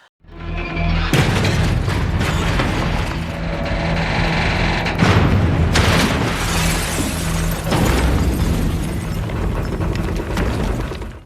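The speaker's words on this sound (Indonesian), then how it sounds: "tiba-tiba ledakan besar terjadi dan getarannya mengenai gedung TRTV hingga studio menjadi berantakan" In an Indian film scene, a loud, sudden explosion bursts out and shakes a TV studio building, followed by a long stretch of booming rumble and crashing, shattering debris with further heavy impacts.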